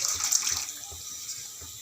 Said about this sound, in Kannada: ಇಷ್ಟಪ್ಪ ನೆನೆಸಿಟ್ಕೊಂಡಿರೋದು ಹುಣಸೆಹಣ್ಣು ರಸ ಹಾಕ್ತಾಯಿದ್ದೀನಿ